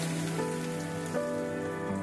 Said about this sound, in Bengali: তেল গরম হয়ে এসেছে, এবারে দিয়ে দিব লবণ হলুদ মেখে রাখা ট্যাংরা মাছ।